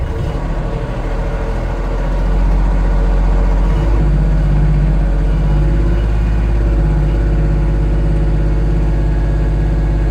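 Kubota LX20 series compact tractor diesel engine running steadily and loud, its low rumble rising as it is throttled up partway through, then holding a higher, even drone with no talk.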